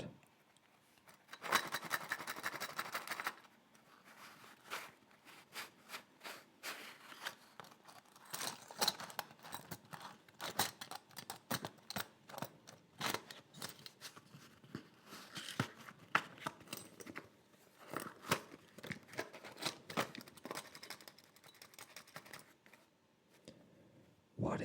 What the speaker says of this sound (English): These are the staples.